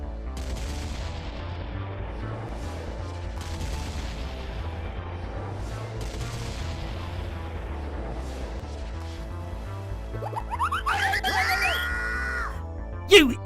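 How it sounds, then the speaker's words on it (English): Cartoon gunfire from crew running around a pirate ship as they fire at Peter Pan: a steady stream of rapid popping shots over a booming low rumble, continuing throughout with a brighter whistling burst near the end. "Everyone ran around the ship, firing, trying to shoot Peter Pan."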